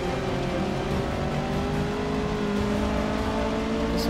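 A race car engine in Forza 6 drones steadily at high revs, a continuous loud whine holding without pause.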